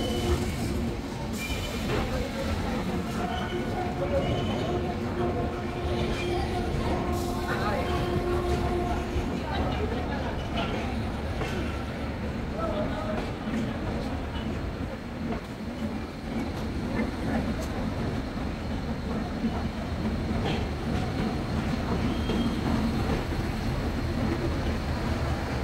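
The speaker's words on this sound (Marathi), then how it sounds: "तर आता पनवेल स्टेशनवरून ही माझी ट्रेन आता निघाली आहे" Goa Sampark Kranti Express pulls out of Panvel station, a continuous rumble of wheels and carriages with rattles and clanks heard from on board, with voices talking throughout.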